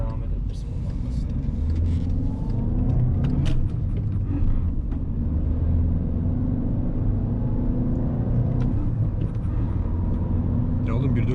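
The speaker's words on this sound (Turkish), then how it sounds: "motor sesi içeriye çok az çok tatlı geliyor" A Volkswagen Golf 6 1.4 TSI 122 hp manual engine drones with a steady low rumble heard from inside the cabin, with people talking over it.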